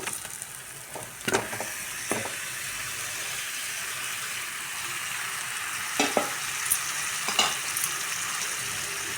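Marinated chicken and fried potatoes sizzle steadily in a pan with spices, loud and continuous, broken by several sharp clinks and scrapes of a stirring utensil, with no voices.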